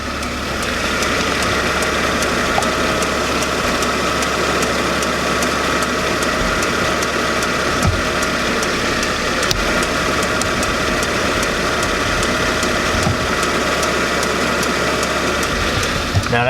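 A car's engine runs steadily with a low continuous hum and faint knocking after the transmission fails to shift gears, with the check engine light on; no talking over it.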